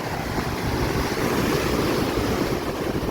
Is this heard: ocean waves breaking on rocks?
yes